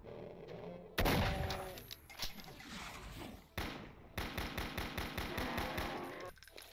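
Rapid automatic gunfire in a video game rattles out in loud, close bursts, with a heavy opening volley, short pauses, and then a fast steady stream of shots toward the end.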